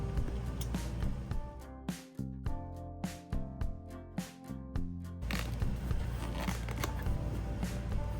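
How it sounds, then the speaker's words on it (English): Tape on a Nintendo Switch 2 box is cut, giving a series of sharp, close, rhythmic slicing and snapping sounds, about a dozen in a row, set against background room noise. "And now let's cut the tape."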